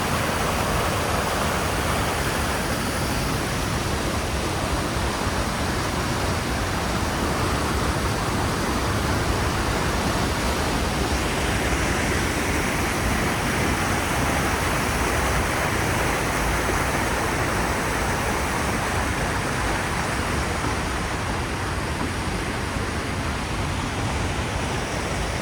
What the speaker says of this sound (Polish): Tu zobaczcie, jaka jest płynąca woda.